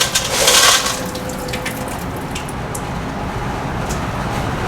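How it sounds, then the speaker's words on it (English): Water is tipped out of a soaked coarse aggregate sample, a loud gushing splash at the start that drops to a steady, lower trickle and rush of draining water. "It's soaked, so I'm just dumping the water out."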